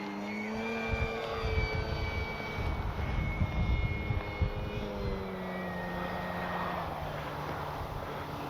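Small RC Pitts biplane, FMS 1400mm, flying in strong wind: a steady engine drone with shifting pitch as it climbs and passes, buffeted by gusty wind noise throughout, with no talking.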